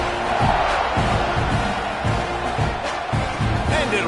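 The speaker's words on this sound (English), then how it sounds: "You think this crowd's going to get loud when their defense comes on the field?" A large football stadium crowd at a Sooners game roars loudly and steadily, with rhythmic surges like chanting, filling the whole stretch.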